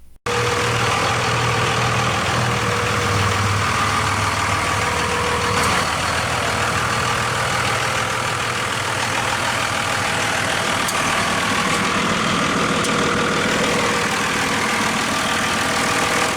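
A 2002 Dodge Ram 2500 pickup with its Cummins ISB 5.9-liter pushrod turbodiesel inline-six idles steadily, a loud, continuous diesel rumble and clatter that holds evenly from start to end with no voices.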